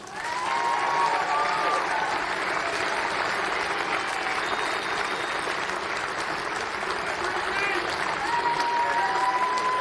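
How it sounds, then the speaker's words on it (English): A stadium crowd applauds steadily at the closing ceremony of the Men's Softball World Cup 2022, broad sustained clapping with crowd noise and faint whistles over an open, reverberant space. "can we have a big round of applause?"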